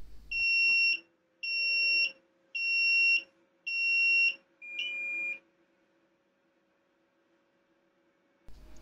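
A Flying Bear LaserMan laser engraver beeps as it is switched on, giving five loud, evenly spaced two-tone beeps in a row over a faint hum, then silence until a soft click near the end.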